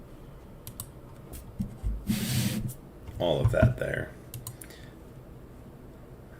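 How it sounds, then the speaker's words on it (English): Sharp clicks of a computer mouse and keys during a game stream, scattered quick taps close to the microphone, with a person talking in a low voice in between and a brief rustle partway through. "I need to figure out a better setup so my mouse clicks don't bug the crap out of people."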